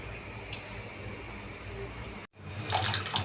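Leafy greens, jute leaves among them, are washed in running water, with a continuous splashing flow, a brief cut, then louder sloshing and handling.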